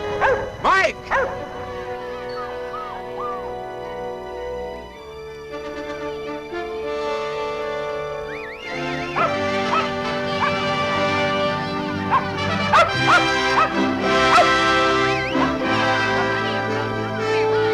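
A dog barks and yips repeatedly in an outdoor scene, the sharp calls loud and close, mixed with voices talking and calling around it.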